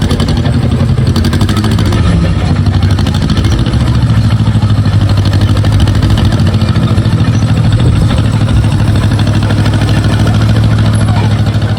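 An Allis Chalmers CA tractor engine with its muffler coming off runs loud and steady close by, a rough, rapid, clattering idle that continues unbroken.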